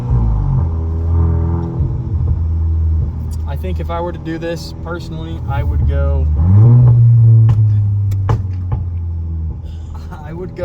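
A Volkswagen MK8 car exhaust with an aftermarket Milltek downpipe rumbles and revs with a deep, loud drone, rising in pitch midway, while someone talks over it.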